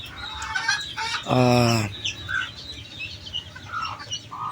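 Chickens cluck close by, with a short loud burst of clucking in the middle and softer bird calls scattered around it.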